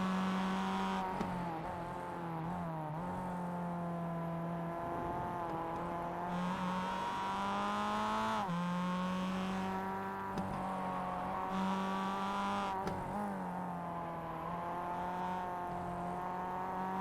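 Mazda MX-5 race car engines rise and fall through gear changes at Summit Point, a steady near drone with repeated upshifts and revving as the cars circle the track.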